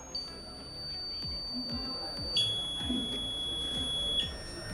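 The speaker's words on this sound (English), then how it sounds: "This buzzer is beeping at different frequency. That's why it's making different types of sound." A high, steady electronic buzzer tone sounds continuously, jumping to a different pitch twice, over a low rumbling background with soft thumps.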